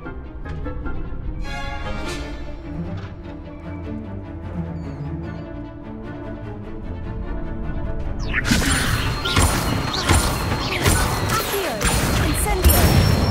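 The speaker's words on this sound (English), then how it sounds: "Remember to cast all the spell combinations before the dummy lands again." Spell combinations strike a training dummy in Hogwarts Legacy, a run of magical casting tones giving way to loud crashing, whooshing impacts and bursts in the later half, dense and close.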